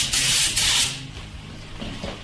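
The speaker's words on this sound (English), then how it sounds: "Adjusting the spray pattern." A spray gun loaded with white base paint fires two strong bursts at a car during the painting stage, each a loud hissing rush lasting under half a second, followed by quieter shop noise.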